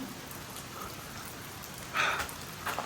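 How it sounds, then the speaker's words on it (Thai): Rain falls steadily as a soft continuous hiss, with a brief louder patter of drops near the end. "โอ้ฝนก็ตกพี่"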